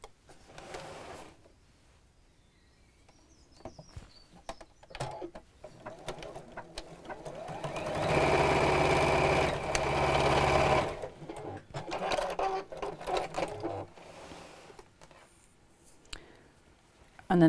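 A sewing machine stitches the side seams of a rattan-handle bag, a loud steady whirring run of about three seconds in the middle, with quieter handling sounds and brief machine bursts before and after.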